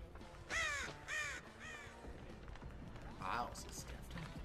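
A crow caws in Dead by Daylight: three harsh caws in quick succession, then a fourth after a short pause, fairly close and loud, with faint footsteps and background noise between them.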